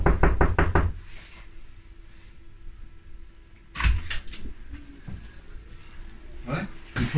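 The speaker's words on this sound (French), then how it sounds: "Qui c'est qui a frappé, qui nous m'a réveillé?" Knocking on a hotel room door: a quick burst of sharp knocks at the start, then quieter muffled knocks and handling noises later, with faint room sounds between.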